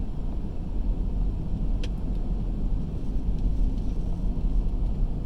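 A car driving along a road in Campbell County, Tennessee, heard from inside as a steady, loud low rumble of engine and road noise with wind buffeting, continuous and without talking.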